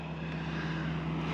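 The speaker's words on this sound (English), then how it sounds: "The airplane's about to land on the other lake." A small floatplane passes over a lake before landing, its steady propeller drone and low engine hum continuous and fairly loud throughout, with no other sounds on top.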